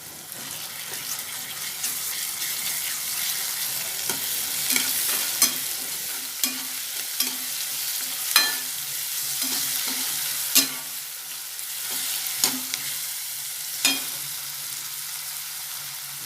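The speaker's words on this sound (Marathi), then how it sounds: "ते पण चांगलं तेलात घ्यायचं आहे आपल्याला 2 मिनिटं परतवून।" A spoonful of ginger garlic paste fries in oil for paneer bhurji, with a soft, even hiss beneath it and regular clacks of a spoon stirring against the pan every second or two, close and moderately quiet, no voices.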